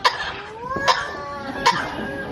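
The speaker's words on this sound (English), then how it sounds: "A few good coughs, a bit of a treat." A captive bird at a safari park gives three sharp, human-like coughs, spaced evenly and close, with clear tonal whistling sounds between them.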